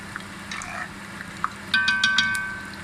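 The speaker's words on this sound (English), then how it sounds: "So this is the last batch frying right here." Fish pieces fry in a pan as a last batch destined for stewed fish, giving a soft steady sizzle with scattered pops and a brief brighter crackle near the end, close and unvoiced.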